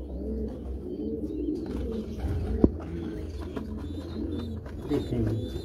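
Caged pigeons of a Karachi breeding line coo in low, repeated throaty bursts, with one sharp click midway and faint background voices and chirps.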